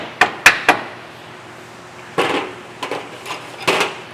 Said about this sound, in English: you can hit it with the hammer just so you can go kind of in